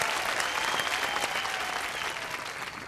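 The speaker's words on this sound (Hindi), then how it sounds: "जोरदार तालियां हमारी दोनों टीम्स के लिए।" Studio audience of a Hindi family game show applauding the two competing teams, a dense, steady wash of clapping that holds loud throughout with no pauses.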